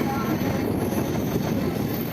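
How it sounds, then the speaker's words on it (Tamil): Pamban Express train at Rameswaram railway station, a steady loud rumble of rolling stock running continuously close by with no clear breaks. "இதுதான் இப்போ விட்ட அந்த பாமன் எக்ஸ்பிரஸ்"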